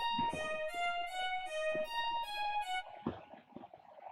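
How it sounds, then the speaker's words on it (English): An electric piano keyboard patch from FLEX in FL Studio, with its attack lowered, plays a short melodic phrase of bright sustained notes, clean and alone, before fading into a quieter tail. "first is a keyboard with an E piano from Flex."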